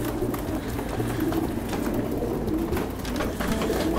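Pigeons coo softly and repeatedly inside a loft, with low, rounded calls overlapping over a steady background hum and no talking.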